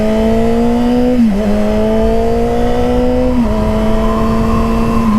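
A motorcycle accelerating and shifting gears on the highway, a loud close engine drone that climbs steadily in pitch, dropping briefly at each of two smooth gear changes.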